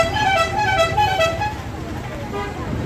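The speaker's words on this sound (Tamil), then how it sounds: "இதுதான் அந்த டிராஃபிக் போல் கொடூரமான டிராஃபிக்." Heavy, slow-moving road traffic near Ooty, where vehicle horns toot and honk repeatedly over a constant engine and road rumble, loud and close.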